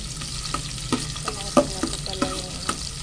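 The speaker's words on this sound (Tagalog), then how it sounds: "inuuna ko po muna yung sibuyas para mag-brown konti bago ko ilagay yung bawang" Onions browning in oil in a frying pan, a steady close sizzle broken by occasional sharper crackles and pops throughout.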